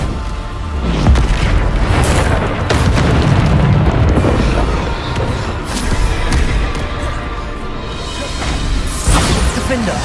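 Bombarda spell blasts go off in Hogwarts Legacy on PS5, loud booming explosions mixed with crashing combat effects and a thick continuous din of spellcasting throughout.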